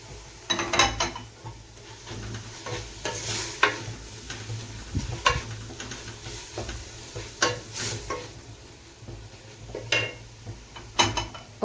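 Grated carrot being stirred into onion and chicken frying in a pot for a Ramadan chorba soup: close spoon scrapes and clinks over a soft, continuous sizzle, no talking.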